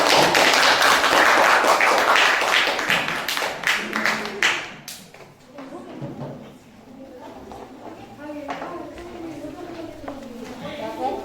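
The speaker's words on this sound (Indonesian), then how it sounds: "tepuk tangan untuk kelompok kita ya" A class claps for a presentation group, a loud burst of many hands for about five seconds that quickly dies away as voices begin talking in the room.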